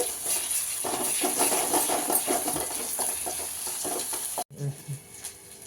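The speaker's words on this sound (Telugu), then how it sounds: "అల్లం పేస్ట్ పచ్చివాసన పోయేంత వరకు వేయించుకోవాలి" Onion and ginger paste fries in a pan for Telugu-style fish curry, giving a steady close sizzle with scraping stir strokes, then a short break and quieter bubbling near the end.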